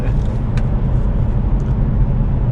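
Manual 2023 Hyundai Elantra N pulling in third gear, a loud, steady engine drone with deep low rumble heard from inside the cabin, continuous throughout with no talk.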